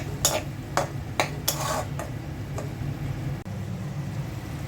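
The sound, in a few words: hilsa fish heads being fried with garlic and onion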